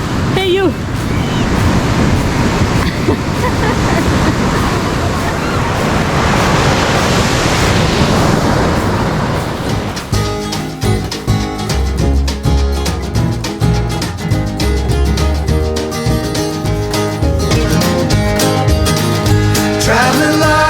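Ocean waves break and wash onto a beach at Mazatlan, a loud, continuous roar of surf that gives way halfway through to music over softer water.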